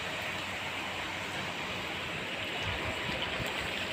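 Dense, steady rain pours down outside a home with a rooftop terrace, a constant close hiss with no breaks for the whole stretch and no talking.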